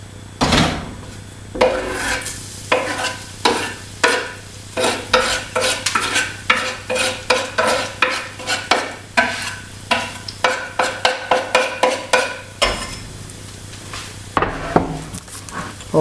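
Garlic frying in homemade olive oil in a pan, with a strong sizzle under a long, fairly regular series of loud close scraping strokes of a utensil against the pan, pausing briefly near the end.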